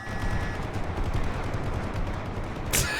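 Rapid gunfire crackles steadily in a World War video game battle, mid-distance and continuous, ending in a sharp, louder burst near the end.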